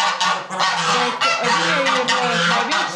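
Geese honk loudly and continuously on a farm, their nasal calls overlapping in a dense, close chorus with no pauses and no voices.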